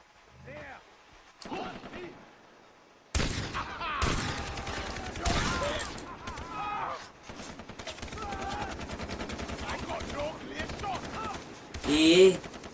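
Gunfire from a small handgun in the video game Far Cry 3 comes as scattered sharp shots and short bursts amid other game sounds, with someone talking excitedly over much of it.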